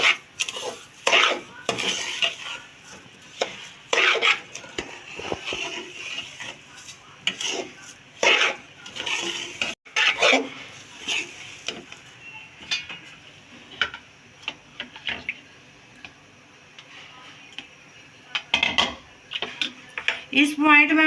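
A spoon scrapes and clinks against a metal pot while a sweet semolina mixture with sugar and green cardamom is stirred, irregular clattering strokes in bursts with short pauses, close and fairly loud.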